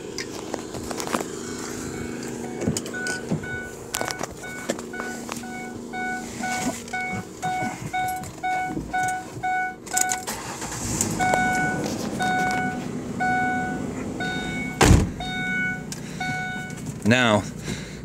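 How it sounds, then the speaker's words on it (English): A pickup truck's door and cabin handling give way to the vehicle rolling off, with a rumbling ride, steady beeping chimes and a closing thud, leading onto a cobblestone driveway. "I'm going to get in my truck here and take a ride"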